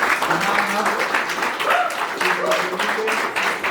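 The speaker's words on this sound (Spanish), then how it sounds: "Le damos un aplauso a este panel." Audience at a panel discussion on truth and lies in the media gives a dense, continuous round of applause, loud and close, with some voices mixed in.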